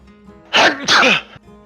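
A single loud, close sneeze in two bursts, a sharp intake and then an explosive release, standing alone against quiet background hum.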